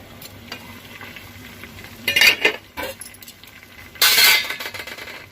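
Brinjal with tomato cooking in a pan for a Kannada mosaru bajji recipe, a low steady sizzle with two loud bursts of scraping and clinking as a spatula stirs the pieces against the metal.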